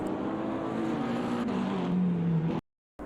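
Engine drone from race cars in a racing video game at Road Atlanta runs steadily through a chicane, with a pitch sliding gradually downward before cutting off abruptly near the end.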